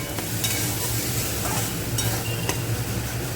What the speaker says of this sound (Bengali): এবার পুরো মশলাটাকে আমি ভালো করে কষিয়ে নেব।